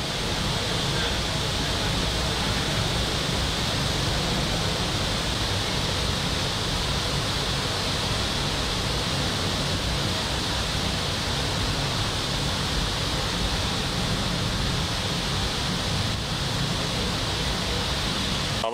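Floodwater rushes over the Hantana Tapodhara temple grounds in Kandy after heavy rain, a loud, constant roar of flowing water that fills the whole stretch without a break.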